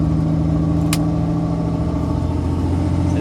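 A 2004.5–2007 Cummins diesel pickup with a built transmission pulls up a hill, its engine holding a loud, steady, droning rumble under load from start to finish, heard close with no voices.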